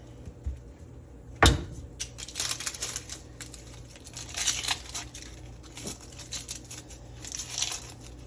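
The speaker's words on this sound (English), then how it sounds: "And same goes for the old onion here. So let's go ahead and cut the top off there." A knife slices the top off an onion outdoors by a mountain lake, a sharp thunk followed by scattered crisp crunching and rustling cuts.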